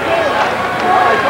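Arena crowd at the 1982 NIT Finals basketball game between Bradley and Purdue, a loud steady roar of cheering and clapping that fills the whole clip with no break.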